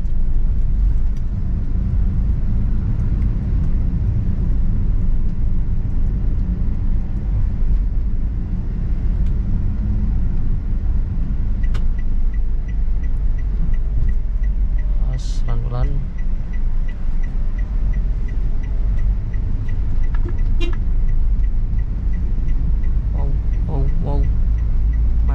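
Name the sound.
Toyota Calya car driving after shifting to third gear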